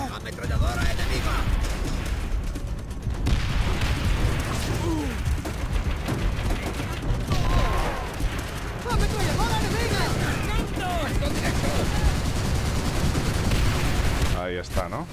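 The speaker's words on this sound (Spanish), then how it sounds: "¡Ametralladora enemiga!" Enemy machine gun fire in the Call of Duty: World at War campaign, dense sustained bursts and scattered gunshots that run loud and unbroken, with someone talking over the battle.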